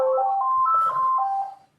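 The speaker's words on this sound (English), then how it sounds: "Then I get the phone call." A phone ringtone sounds once as a steady electronic melodic tone for about a second and a half, then cuts off abruptly.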